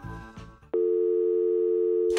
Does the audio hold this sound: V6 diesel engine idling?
no